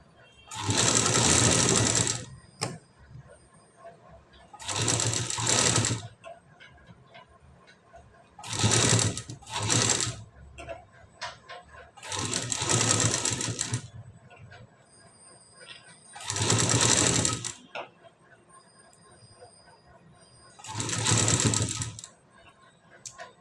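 Sewing machine stitching lace onto the back design of a garment, running in six loud bursts of rapid stitching separated by short pauses, close and clear with no talking.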